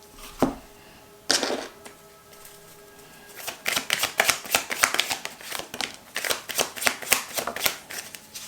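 Tarot cards being shuffled by hand in a quiet room, a couple of soft riffles early on, then a long run of rapid, crisp flicking and slapping of the deck, close and steady.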